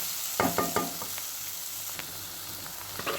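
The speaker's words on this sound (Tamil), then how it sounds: "இந்த ஸ்டேஜில் நம்ம வச்சுருக்க சிக்கனை இப்போ ஆட் பண்ண போகிறோம்." Chicken goes into a pan of frying onion masala, giving a soft, steady sizzle with a few light clinks and stirring knocks near the start, quiet throughout and with no talking.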